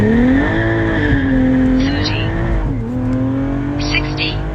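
A 600-horsepower Cadillac ATS-V running E85 accelerates hard on an eighth-mile pass, its engine loud and close as the revs climb, dip briefly at a shift and climb again, with a short tire chirp.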